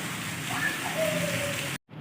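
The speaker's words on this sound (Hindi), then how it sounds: "तो अभी बारिश भी चल रही है।" Steady rain falling outdoors on a wet day, a dense even hiss that fills the scene close by, with faint background tones, before cutting off abruptly near the end.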